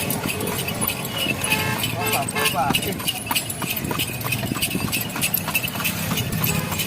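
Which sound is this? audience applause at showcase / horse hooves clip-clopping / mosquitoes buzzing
horse hooves clip-clopping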